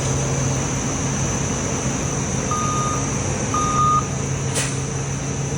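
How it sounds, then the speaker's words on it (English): Reversing beeps sound from a truck being rolled forward and back after an axle adjustment, two short tones under a steady engine drone with one sharp click near the end. "you have to roll the truck forward and roll it back, so that way the axle will realign itself"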